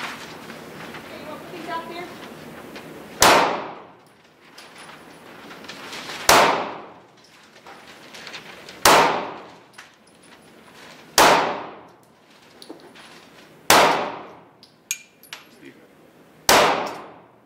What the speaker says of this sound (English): coming up you're going to see some footage of me actually shooting the Ruger LC9